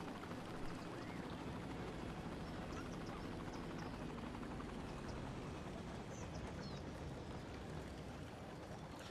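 Steady, droning rotor noise from a helicopter in Cities: Skylines fills the scene, a continuous whirring roar with no talking over it.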